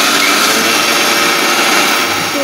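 An electric grinder runs continuously on cumin seeds with a loud, steady motor whir and a gritty rattling grind that stays constant throughout, with no voices.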